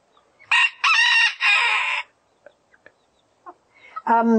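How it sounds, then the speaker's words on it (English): A rooster crows loudly and close by in a drawn-out, multi-part call, followed by a few faint clucks and the start of another crow. "that's the rooster"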